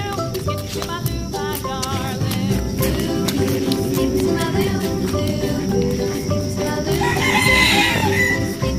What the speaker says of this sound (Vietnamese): Nhà hai nuôi nhiều gà quá.